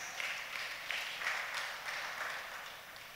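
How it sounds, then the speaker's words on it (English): A church congregation claps together in a rough steady rhythm, moderately distant and soft, the claps blending into a continuous wash with no one speaking over it. "Clap to Jesus."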